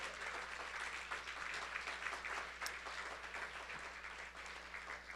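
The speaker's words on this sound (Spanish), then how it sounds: "dele un aplauso al Señor esta mañana" A church congregation applauds during a Spanish-language sermon on the parable of the sower, a steady wash of many hands clapping that holds evenly throughout with no speech over it.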